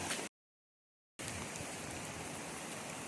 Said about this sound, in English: I'm going to see if I can shade or protect the phone from the rain here